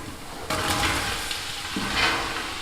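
Onions drop into a hot pan and a loud, close sizzle bursts up at once, then holds as a steady crackling hiss with small swells, no voices over it.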